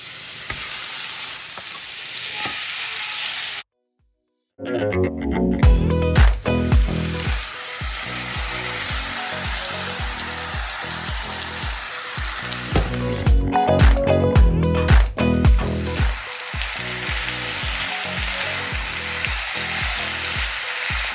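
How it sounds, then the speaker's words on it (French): Minced meat and onions fry in heated oil, giving a loud, steady close sizzle with stirring clatter and a brief silent gap near the start. "Là j'ai chauffé de l'huile puis je vais faire revenir ma viande hachée avec mes oignons"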